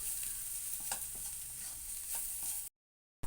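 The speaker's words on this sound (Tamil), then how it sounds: "இப்போ இது எல்லாத்தையும் சேர்த்து நல்லா மிக்ஸ் பண்ணிக்கலாம்." Spices and turmeric are stirred together in a frying pan for vegetable bonda, soft scraping strokes over a steady light sizzle, close and quiet, ending in silence.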